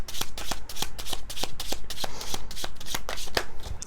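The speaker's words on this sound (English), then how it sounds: "I'm going to shuffle again. This deck is very slippery." A slippery tarot deck being riffled and shuffled by hand, a brisk rhythmic run of about a dozen crisp card flutters, close and clear, with no talking over it.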